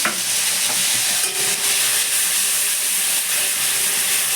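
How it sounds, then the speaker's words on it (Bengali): Ginger, garlic and onion paste fries in hot oil with a loud, steady sizzle and hiss, close up, with faint stirring scrapes and no speech. "এই আদা রসুন পেঁয়াজ বাটা ছিল অল্প একটু দেবো কারণ তেলে একটু ভালো করে কষিয়ে নেবো"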